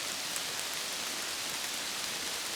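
Steady, dense rain falls through a Pomeranian forest during mushroom picking, a continuous close hiss of drops on leaves with no voices and no breaks.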